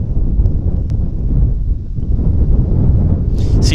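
Strong gusty wind buffets the microphone outdoors at Vancouver Airport, making a loud, steady low roar throughout with no clear talk.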